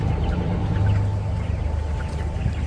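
Chickens cluck softly and steadily over a low, constant hum, several birds close by.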